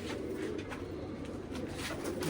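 Jamuni pigeons, small-bodied, cooing in a steady low murmur throughout, several birds close by with continuous soft background noise.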